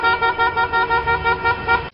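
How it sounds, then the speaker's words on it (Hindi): A motorcycle horn stopped on a road toots in a steady rapid pulsing series of about eight close, loud beeps, sounding alone for two seconds before cutting off. "रास्ते पर अपनी मोटरसाइकिल रोककर हॉर्न क्यों बजा रहा है?"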